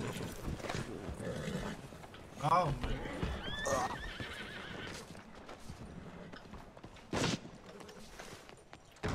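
A horse whinnies loudly amid clopping hooves, while people talk and exclaim nearby.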